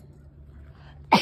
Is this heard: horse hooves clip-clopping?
no